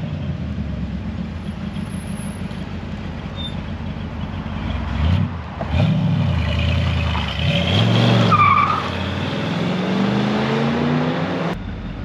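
A powerful Corvette convertible engine rumbles, then revs loudly and roars as the car pulls away, its exhaust note rising and falling through several gear changes.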